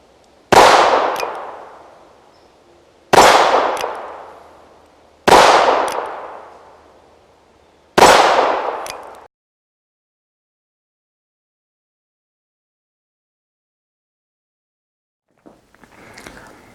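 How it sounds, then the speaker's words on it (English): Four sharp gunshots from an NAA-22MC mini revolver fired at a steel target 15 yards away, spaced a few seconds apart, each with a ringing decay, then long silence and a faint rustle at the end. "That hit the steel target."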